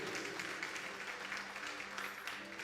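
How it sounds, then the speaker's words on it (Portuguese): A church congregation applauds during a Sunday family service, a dense, continuous wash of many hands clapping at steady volume for a few seconds. "Você pode aplaudir o Senhor? Vamos lá, faça isso com alegria."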